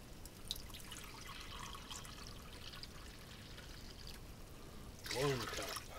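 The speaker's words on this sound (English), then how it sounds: "Then we're going to add water." Water poured from a cup into a cast iron pan holding chicken and pureed tomatoes, heard as a short trickling splash near the end after a quiet stretch, with a faint voice in the background.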